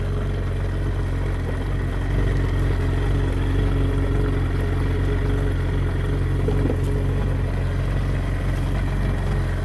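A 2020 Kawasaki STX160 jet ski engine idles steadily on a flush hose during an oil change, a continuous close, low rumble with no revving and no talking.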